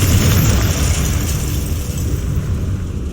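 A Confringo fire spell in Hogwarts Legacy erupts into a loud, sustained fiery explosion, a dense roaring rumble that stays strong for a few seconds and fades slightly, with no speech.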